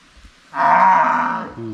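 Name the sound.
cow mooing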